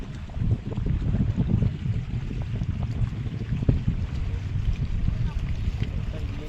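Water pours over a dam spillway after heavy rain, a steady low rushing roar with wind buffeting the microphone, continuous and close.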